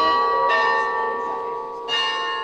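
Carillon bells ringing in the Glockenspielplatz square of Graz, Austria, a sustained, resonant peal of chimes with a new strike near the start and another near the end, loud and reverberant with no talk.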